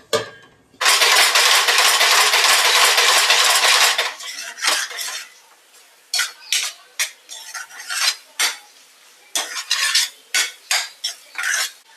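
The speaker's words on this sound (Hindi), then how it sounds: "अब इसको पूरा मसाला हिला दिया है। अब ये पकेगा हमारा मसाले के साथ।" A metal spoon stirs and scrapes Kolhapuri-style masala of onion, ginger, garlic and coconut in oil in a cooking pan. A long sizzling scrape is followed by a run of sharp, close clinks and taps.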